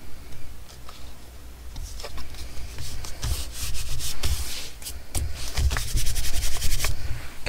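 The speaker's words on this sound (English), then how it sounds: "I'm going to ink the white space here with the same dark scorch timber ink." Steady rubbing and dabbing of a dark scorch timber ink applicator across paper in a junk journal, a soft continuous scuffing texture with repeated light taps, close and alone without speech.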